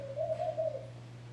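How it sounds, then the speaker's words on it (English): Laughing dove calling outdoors along a farm road near Petra, Jordan: a single soft, bubbling run of coos rising and falling for about a second over a steady low background hum, with no voices. "So a laughing dove"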